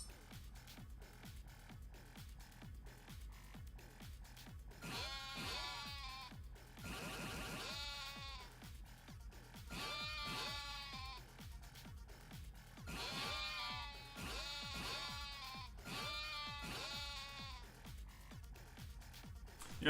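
Goats bleat repeatedly in the Yakuza 7 video game, several loud wavering calls arriving in bursts over a steady game background, with occasional speech.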